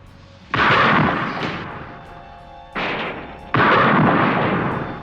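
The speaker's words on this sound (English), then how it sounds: "I think I heard gunshots." Three loud, booming gunshots ring out at uneven intervals, each with a long echoing decay.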